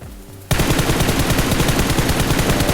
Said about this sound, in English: you wanna hip fire, you can still hip fire